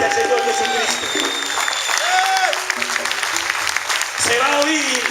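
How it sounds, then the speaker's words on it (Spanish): A church congregation applauds loudly, sustained clapping mixed with cheering and shouted voices rising and falling over it. "Dale un aplauso fuerte al Señor Jesucristo."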